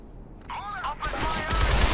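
Assault rifle fire in the action game Shadow Complex, rapid bursts that grow louder and denser over a couple of seconds, mixed with other game sounds.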